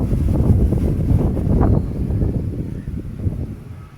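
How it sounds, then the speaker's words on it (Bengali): A strong Kalbaishakhi nor'wester storm wind blows hard in Kolkata with trees around, roaring and buffeting the microphone in heavy gusts that ease slightly toward the end. "সাংঘাতিক হাওয়া দিচ্ছে।"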